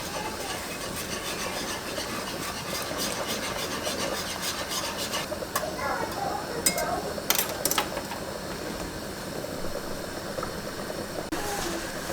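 A spoon stirs brown gravy mix into home-canned beef stew, producing continuous close scraping and rubbing with a few sharper scrapes midway.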